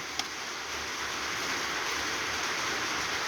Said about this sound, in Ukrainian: вибачаюся, у нас дощ, якщо ви чуєте